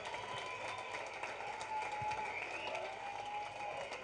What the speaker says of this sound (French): On peut encore l'applaudir très fort